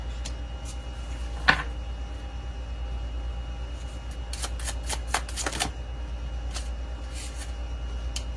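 Tarot cards shuffled and drawn from a deck during a reading, faint papery riffles and soft slaps, one sharper snap early, then a cluster of quick flicks near the middle, close and quiet with no talk.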